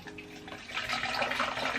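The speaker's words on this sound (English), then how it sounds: "now we're gonna pour in the water" Warm water poured into a Barbie color-reveal toy container, a brief close splashing gush that grows fuller and steadier partway through.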